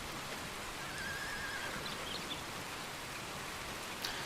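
Steady rain hisses in Red Dead Redemption 2, a soft even wash of drops with a horse whinnying faintly in the background and a light thud near the end.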